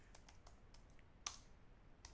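Quick, light taps of a command being typed on a computer keyboard, faint and close, with one sharper key click partway through and no speech.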